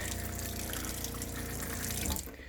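Water gushes steadily from a tap while a pump runs to feed the supply, a close, continuous rushing flow that cuts off abruptly near the end.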